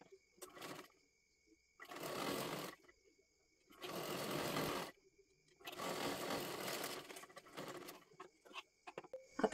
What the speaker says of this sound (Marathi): सर्व व्यवस्थित आपल्याला शिलाई सुद्धा करून घ्यायचं आहे